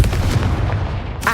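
A Confringo blast spell in the Hogwarts Legacy video game lands as a loud, deep booming burst that rumbles on for about a second, followed by a short bright crackle.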